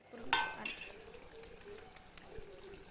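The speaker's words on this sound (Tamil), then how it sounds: "நல்லா கொதிக்குது பார்த்தீங்களா" A metal spoon clinks and scrapes in a pot of tamarind brinjal curry, then a soft bubbling simmer continues with faint taps, close up.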